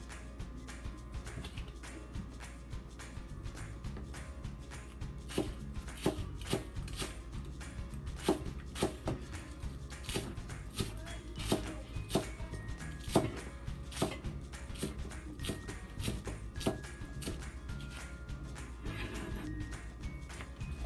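A knife chops scallions (green onions) on a cutting board for a Chinese chicken salad, giving a steady run of crisp, moderately loud taps at an irregular pace with no talking.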